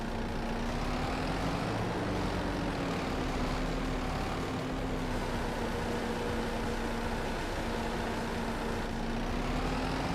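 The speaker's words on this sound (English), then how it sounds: "I keep thinking I hear a plane in the background." An airplane flying in the background near an airport: a faint, steady low drone that continues unchanged for the whole stretch.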